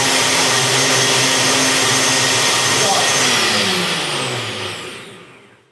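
A blender whirs at full power as it purées lentils with water, a loud, steady whine close by that winds down and stops at the end.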